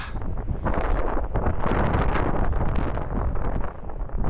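Steady wind roars and buffets the microphone in Armenia, a continuous low rumble with gusty swells throughout and no voices.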